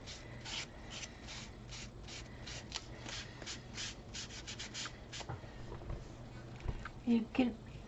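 A baby wipe is rubbed over a wooden craft stick to stain it, making soft, close scratchy strokes in a steady rhythm, with a few louder handling bumps toward the end.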